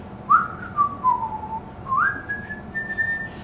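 A narrator whistles a merry tune in imitation of a young butcher jogging to market in a meat-hung cart, with two gliding, sustained phrases sounding clear and close over a soft background hum.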